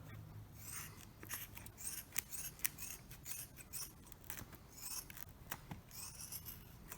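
Scissors snip around the outside of an orthotic base plate, a quick run of close, crisp cuts in an uneven rhythm with short rubbing scrapes between them, nobody talking.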